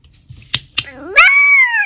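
Two sharp clicks, then a single clear, drawn-out meow from a cat nearby, rising and then falling in pitch.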